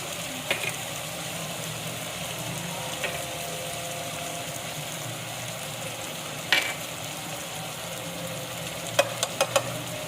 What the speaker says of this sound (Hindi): अब मैं इसमें ये टमाटर शामिल कर रही हूँ और ये मसाले भी डाल देंगे सारे।